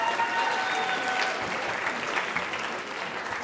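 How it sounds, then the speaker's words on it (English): Applause from a live high school audience fills the space, a steady dense wash of clapping sustained throughout with no voices rising above it. "Let's get a round of applause, round of applause."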